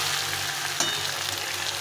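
Mutton coated in ground spice paste fries in hot oil, giving a steady close hiss with one brief clink of a stirring utensil partway through; no voices.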